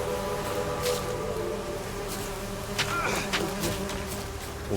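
Bees buzzing in a video game, a steady insect drone with a few sharper passes close by, heard alone and continuing without pause.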